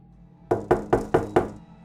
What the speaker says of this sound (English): the sickening sound of a fist knocking on the bedroom window